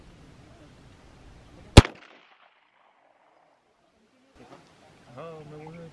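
A single-barrel 12-bore shotgun fires one loud, sharp shot at a shooting range, and the report rings out and fades. Voices start talking a few seconds later.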